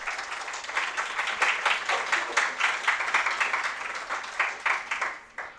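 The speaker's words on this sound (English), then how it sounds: "let's have a round of applause for him as well" An audience claps steadily for several seconds to welcome a speaker at an academic panel on alternative development and ecologies, a dense sustained round of applause with a few voices faintly underneath.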